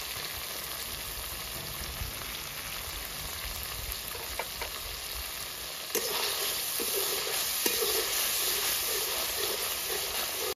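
Steady loud sizzling of Bengali spice paste frying in a pan with cumin paste and salt, a continuous hiss that grows slightly stronger and brighter partway through, with faint scraping of a spoon.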